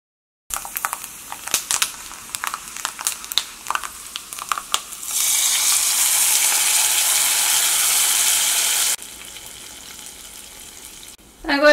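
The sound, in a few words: mustard seeds popping while frying in oil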